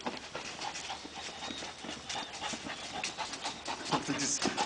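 A dog pants and shuffles about close by, steady rapid breaths with scrabbling and clicking movement noises, while a faint voice is heard in the background.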